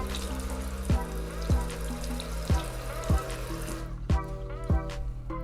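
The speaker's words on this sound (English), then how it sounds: "Gonna rinse it off real good too" Water runs steadily from a kitchen tap while a cucumber is rinsed for a lemon cucumber salad, with a continuous splashing stream and a few sharp low thumps at regular intervals from handling.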